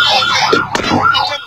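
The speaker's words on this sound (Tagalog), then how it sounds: "Doon maririnig ang tunog ng isang wangwang habang sila ay nagtatalo." A loud siren wails and warbles up and down, close by, with voices arguing faintly underneath.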